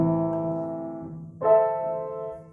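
A piano chord sustains and fades, then the same chord is struck at a different pitch and rings on, both gentle and unaccompanied.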